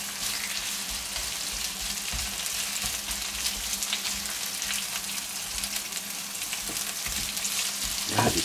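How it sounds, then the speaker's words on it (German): Halved onions sauté in an outdoor wok, giving a dense, steady crackling sizzle throughout with occasional stirring scrapes and a brighter clatter near the end. "die Zwiebel kurz andünsten"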